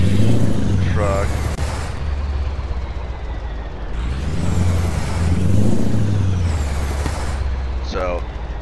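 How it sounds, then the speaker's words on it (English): A loud Mack Pinnacle truck engine in American Truck Simulator roars and surges in waves, with brief hissing bursts like air brakes and a voice talking over it. "this is a very loud truck"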